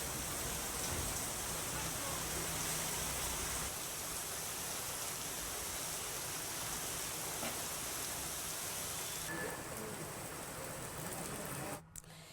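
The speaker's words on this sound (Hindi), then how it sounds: "कई इलाकों में झमाझम बारिश का दौर लगातार देखने को मिल रहा है" Heavy rain pours down in a steady, dense hiss, loud and unbroken for the whole stretch, with a brief dropout near the end.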